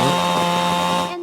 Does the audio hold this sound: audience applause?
no